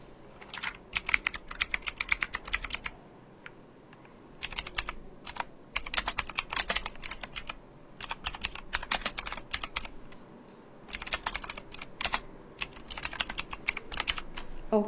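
Bursts of typing on a computer keyboard, quick clicky keystrokes in runs of a few seconds separated by short pauses, close and fairly quiet with no voices.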